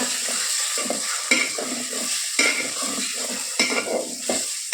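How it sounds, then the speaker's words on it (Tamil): Boiled eggs are stirred into masala in a pan for egg mandi biryani, giving rhythmic scraping strokes about once a second over a soft sizzle, close and clear with no speech. "சேர்த்துட்டு மசாலாவோட நல்லா கிண்டி கொடுத்துக்கோங்க."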